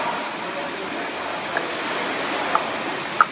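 DEF fluid is poured into the filler of a BMW X5 E70 diesel as a steady, faint rushing pour that runs throughout, broken by a couple of tiny plastic clicks near the end.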